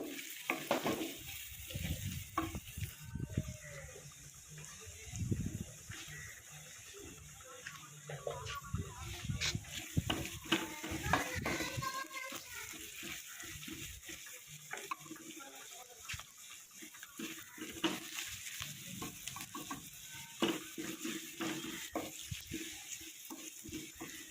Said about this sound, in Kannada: ಈಗ ಅರಿಶಿನ ಮತ್ತು ಉಪ್ಪನ್ನು ಹಾಕಿ ಚೆನ್ನಾಗಿ ರೀತಿ ಫ್ರೈ ಮಾಡಿಕೊಂಡು